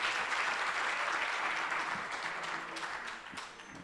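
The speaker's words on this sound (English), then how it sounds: "Let's give a round of applause for Advocate." A seminar audience at a men's dialogue event on gender-based violence gives a round of applause for an advocate speaker. The clapping is continuous and full, then tapers slightly near the end.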